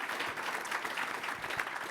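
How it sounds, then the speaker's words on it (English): Audience applause at a lawn care business mastermind event, a brief burst of dense clapping from the crowd, moderately loud and continuous. "Big round of applause for Mark Bradley so far"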